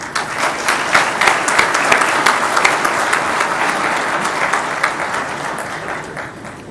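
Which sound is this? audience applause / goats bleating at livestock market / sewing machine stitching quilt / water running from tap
audience applause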